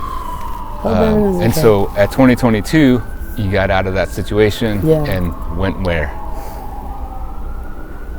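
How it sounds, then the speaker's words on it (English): An ambulance siren wails steadily through a city street, rising slowly in pitch across the whole stretch while a person talks over it in the foreground. "That's a siren. That's a ambulance."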